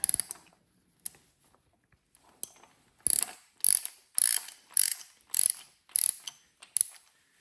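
A torque wrench ratchets in short clicking bursts while camshaft bolts on a Porsche 911 engine are tightened to 80 Nm during bank 2 camshaft installation. About eight close, crisp ratcheting strokes come in a steady rhythm after a few isolated clicks.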